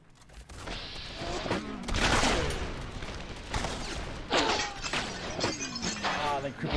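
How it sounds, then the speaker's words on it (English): Shotgun blasts and gunfire crack out in Fallout New Vegas, several sharp reports spread across the moment with shattering debris, loud and close amid game noise. "Actually, we probably better use a shotgun."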